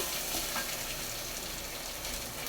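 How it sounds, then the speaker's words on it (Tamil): Chopped onions sauté in a pan for urad dal chutney, giving a steady close sizzle and crackle of frying that holds evenly throughout with no voices. "வெங்காயத்தை வந்து ஒரு அளவுக்கு நல்லா வதக்கிடுவோம்"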